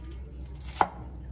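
A knife makes a single sharp chop through a yam (khoai mỡ) on a cutting board while soup is being prepared. The close, crisp thunk stands alone in a quiet kitchen.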